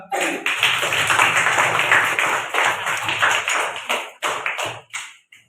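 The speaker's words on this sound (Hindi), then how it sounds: "ताली बजाओ एक बार" Students in a classroom clap together after a correct answer, a burst of close, sharp hand claps that breaks into ragged separate claps and stops near the end.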